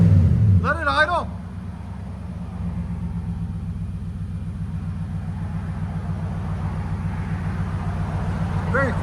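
A 2018 Nissan Titan Pro-4X with its 5.6L V8 and Borla Pro XS exhaust idles with a smooth, steady low rumble, quiet and even throughout, after a brief burst of voice at the very start.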